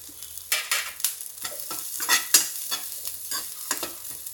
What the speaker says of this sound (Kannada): ಚೆನ್ನಾಗಿ ಹುರ್ಕೊಳ್ಳಿ ಇದನ್ನು, ಒಂದು 2 ಮಿನಿಟ್ಸ್ ಅಷ್ಟು ಹುರ್ಕೊಳ್ಳಿ